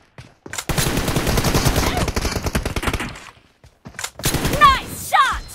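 M416 rifle gunfire in the mobile game BGMI comes as a long, loud automatic burst of rapid evenly spaced shots. Brief game effects and a voice follow near the end.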